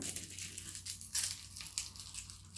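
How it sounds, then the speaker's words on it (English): A knife crunches and crackles through a head of garlic being cut in half, with several close, brittle crushing bursts at moderate volume and no talk. "So I'm just going to cut this head of garlic in half"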